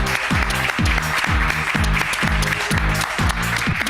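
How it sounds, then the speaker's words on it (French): A television talent-show audience applauds, with steady clapping running through the whole stretch. Under the hands, a rhythmic musical beat pulses. "On applaudit."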